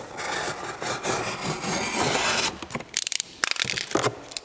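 Sheet-metal trim being cut for bending on a brake, a steady rasping saw-like cut for a few seconds, then a run of sharp, uneven snips and tearing crunches close by.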